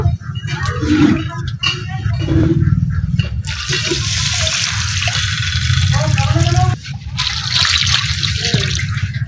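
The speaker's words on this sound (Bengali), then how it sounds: "এখন আমি জল দিয়ে দেবো।" Water pours into a pan of taro and potato curry, a steady running splash with a brief pause midway, while someone talks over it.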